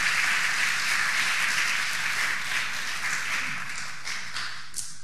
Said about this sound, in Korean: 그러면 우리 그 주님방에 박수를 한번 드리시길 바랍니다.